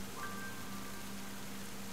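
Steady rain in the dark fantasy game Ender Lilies: an even, soft hiss of falling rain that continues with no break, faint and constant.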